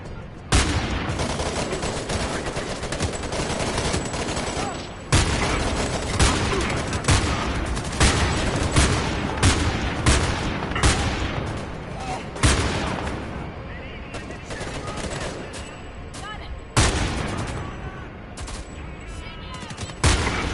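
Dense, sustained video-game gunfire fills the scene as automatic bursts and heavy booms roll on almost without pause, loud and close, with a few short gaps between volleys.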